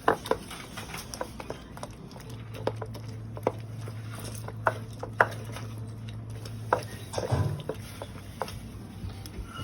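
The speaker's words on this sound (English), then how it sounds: "you want to mush it together" Eggplant being mashed together with onions and pepper for Ghanaian ampesi, making soft, irregular squishing and tapping strokes, close by, over a low steady hum.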